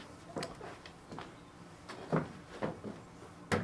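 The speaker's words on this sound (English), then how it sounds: "all I heard was like the door moving" A door moves through a quiet room, giving a series of soft knocks, creaks and light bumps spaced unevenly across the few seconds, close by and fairly faint, with no talking.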